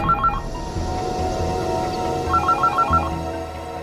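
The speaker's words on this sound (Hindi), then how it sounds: "ये किसका फोन आ गया?" A telephone rings with short repeated electronic trills, once near the start and again in a longer run later, over a steady background hum.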